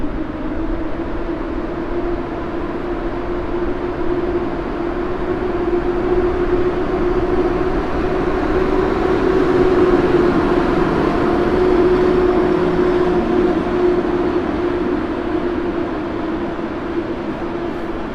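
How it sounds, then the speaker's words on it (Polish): An Intercity Górnik express train pulls out of Warszawa Zachodnia station at night, its steady rumble and hum holding level and fairly loud throughout, with no voices. "Pociąg ekspres Górnik kiedyś, a dzisiaj Intercity Górnik startuje."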